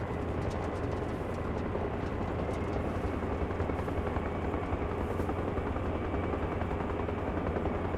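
Helicopter in Arma Reforger flying steadily, a dense continuous rotor thrum with low engine roar and faint chopping blade pulses, constant and close throughout with no voices.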